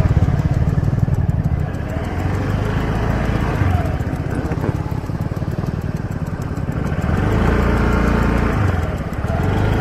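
A scooter ridden along hill roads in Ladakh gives a steady, close engine drone with rushing wind noise that rises and falls slightly throughout.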